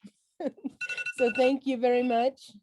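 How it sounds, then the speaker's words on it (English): A phone alarm rings during a meeting, a steady repeating electronic tone sounding over a voice as he thanks someone, fairly close and clear. "That's my alarm."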